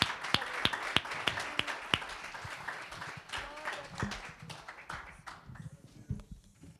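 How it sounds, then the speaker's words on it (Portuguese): A church congregation applauds during a Portuguese-language service, sharp individual claps ringing out at first and thickening into scattered applause before fading away toward the end. "Vamos aplaudir ao Rei dos Reis, ao Senhor dos Senhores."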